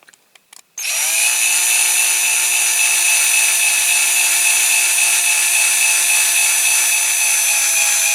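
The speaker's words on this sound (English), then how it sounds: "If you go too quick, it heats up too quick and then your drill bit doesn't seem to want to go in anymore" A power drill spins up after a few faint clicks and then whines steadily as a drill bit bores slowly into a die-cast Dinky Toys RAF pressure refueller, loud, close and continuous, with no talking.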